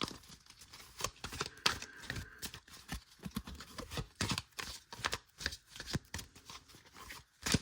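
Tarot cards are shuffled for a card reading, with a rapid run of close, crisp riffles and slaps in an uneven rhythm and no talking over them.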